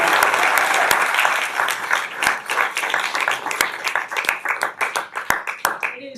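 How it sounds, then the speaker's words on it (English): A crowd applauds two boys basketball teams, Cross Creek and the 2A runner-up Butler, at a county commission meeting, with dense clapping and sharp individual claps over about six seconds that taper at the end, with talk faintly beneath. "give a round of applause for these two"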